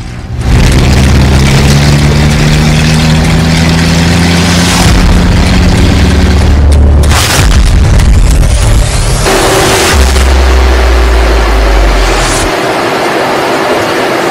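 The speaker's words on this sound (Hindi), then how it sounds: "ब्रह्मोस मिसाइल का परीक्षण हुआ।" A BrahMos missile test launch produces a huge roaring blast that rises into a sustained, loud rumbling thrust with shifting tones, lasting many seconds and fading slightly toward the end, with no talk.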